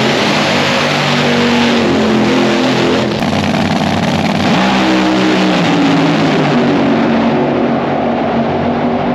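A tuned drag race car roars flat out down the strip during a run, its loud, continuous engine blare rising through the gears and close to the microphone throughout.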